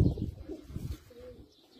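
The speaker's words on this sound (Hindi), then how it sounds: "ये असल में डॉक्टर साहब के घर के कबूतर है माशाल्लाह जी, कराची से।" Teddy flying pigeons from a Karachi home coo softly and briefly, a low murmuring call up close in a quiet setting.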